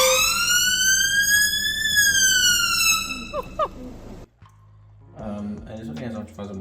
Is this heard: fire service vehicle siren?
yes